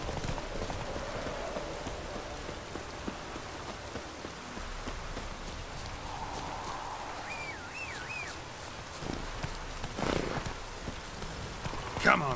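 Geralt's horse Roach clip-clops along in The Witcher 3, steady hoofbeats under falling rain with faint chirps and a brief voice late on.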